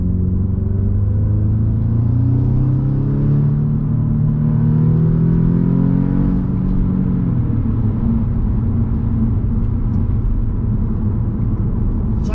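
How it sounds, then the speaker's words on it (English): An Audi S3 8V with a turbocharged engine accelerating under boost with an intermittent power problem, a loud, close rising engine drone with turbo whine climbing in pitch for several seconds, then easing to a steady rumble. "we're getting boost, you can hear the turbo singing"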